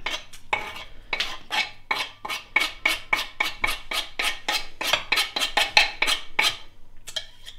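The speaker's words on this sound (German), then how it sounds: "Den Basilikum schneide ich immer gern ein bisschen feiner" Knife finely chopping fresh basil on a wooden board, a steady run of about twenty quick, crisp taps close by with brief pauses, no talk.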